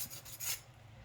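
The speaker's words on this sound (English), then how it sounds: "as you file on the file side with your finger, you get a little bit of filing happening there" A finger rubs across the file side of an emery board in a few brief, close, soft raspy strokes, the middle stroke the loudest.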